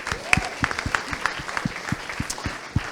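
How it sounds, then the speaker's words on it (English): Sparse applause from a small audience at a gaming tech presentation, individual claps spaced out and distinct rather than a dense roar, fairly close and moderate in level. "So round of applause,"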